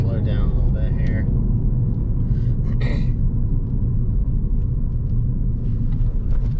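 A Dodge Dart engine fitted with aftermarket headers rumbles in second gear, a steady loud low drone from inside the moving car that carries on without a break.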